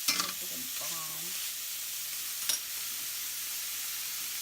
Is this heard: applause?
no